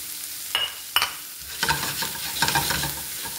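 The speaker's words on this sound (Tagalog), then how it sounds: "Ilagay natin guys ang onion." Chopped onion hitting hot olive oil in a pan, a few sharp clatters of the onion and spoon followed by a steady sizzle and frying with stirring scrapes, close and moderately loud, no talking.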